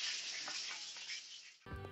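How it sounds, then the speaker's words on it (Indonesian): Food sizzles in a frying pan in a kitchen nearby, a steady hissing crackle that suddenly cuts off and gives way to a different tonal background. "ada suara noise dari yang lagi goreng kedengeran nggak sih ini?"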